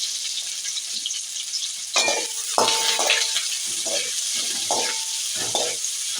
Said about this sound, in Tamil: பெரிய வெங்காயம் போட்டாச்சு தாளிக்கிறதுக்கு.